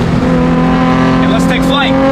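Loud, steady car engine drone with strong low harmonics, a short rising pitch sweep near the end as it downshifts into third gear, all under a voice talking.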